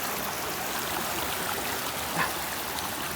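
Water rushing at Jonha waterfall near Ranchi, a dense, steady hiss of fast-flowing water with no break, fairly loud and close, with no voices over it.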